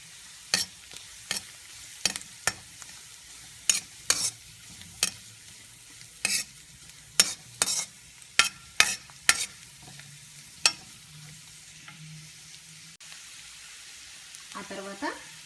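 Carrot pieces frying in a pan for uggani upma, stirred with repeated sharp scraping clacks at an irregular rhythm over a low sizzle, with a faint voice near the end.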